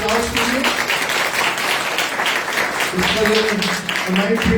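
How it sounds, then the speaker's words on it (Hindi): A church congregation at a New Year meeting applauds loudly and steadily, with voices and what sounds like sung or musical tones carrying over the clapping throughout. "मैं चाहता हूं जोरदार तालियां के लिए"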